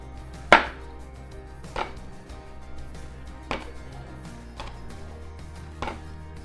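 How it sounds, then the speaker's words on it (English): A knife chops red chili at an angle on a board for a whitebait and dried bean curd stir fry, six sharp separate strokes at an uneven, unhurried pace, close and clear with no voices. "Cut the chili at an angle."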